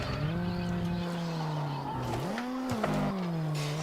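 A car in a retro racing video game drives with a steady buzzy synthesized engine tone that dips and swoops as it skids and slides, loud and continuous for the whole stretch.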